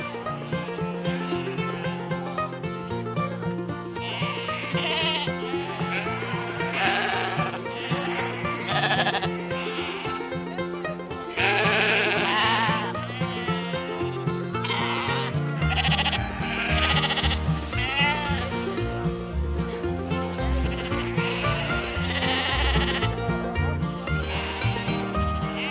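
Sheep bleating repeatedly during herding in Iceland, calls rising loud and close over a dense, continuous mix of other sound that runs throughout.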